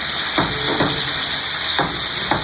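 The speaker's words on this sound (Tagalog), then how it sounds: "Tapos, lagay na natin yung ating atay." Pork liver sizzles loudly in a hot pan, a close, steady frying hiss broken by several sharp bursts as pieces are dropped in or stirred.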